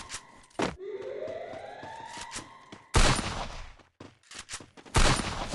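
Gunfire in a Free Fire match comes in several sharp loud bursts, with a rising siren-like whine sweeping up between the volleys.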